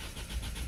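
A brief, steady engine drone as a Citroën C4 1.6 HDi diesel engine cranks without starting, fault code P2670, heard alone with no voices.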